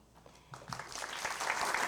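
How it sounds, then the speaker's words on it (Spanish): Conference audience applauding the dean at a criminology conference, starting with a few faint, scattered claps and building quickly into steady, moderately loud clapping. "Les pido nuevamente palmas para el distinguido decano"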